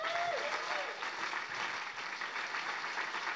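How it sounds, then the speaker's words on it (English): Steady applause from a tech meetup audience fills the whole stretch, a dense even wash of clapping with a brief whistle near the start. "Big round of applause for him on his way out."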